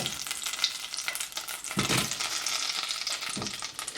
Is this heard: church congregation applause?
no